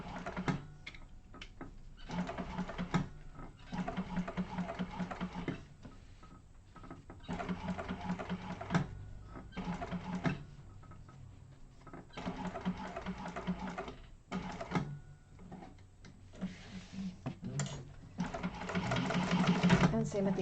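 A sewing machine topstitches an eighth of an inch around the curved seam of a bound bowler bag, running in short bursts with pauses and a quick speedup near the end, with a voice speaking over parts of it.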